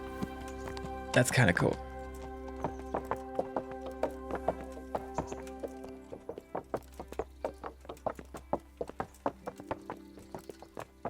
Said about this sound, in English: they made puddle sounds when he went through it with the horse